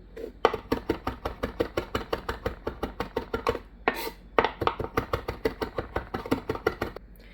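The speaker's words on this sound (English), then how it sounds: "let's go ahead and work on our rosemary. We're gonna mince this up fine." A knife chops rapidly and steadily through rosemary on a cutting board, dense rhythmic taps with a brief pause midway before the fast mincing resumes.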